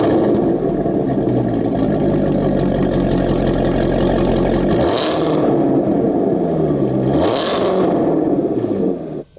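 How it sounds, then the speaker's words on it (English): A 2019 Chevrolet Corvette ZR1 engine rumbles loudly at a rough idle, then revs sharply twice, each blip rising and falling, close and with no talk. "starting this car up, hearing that exhaust note, and then revving it"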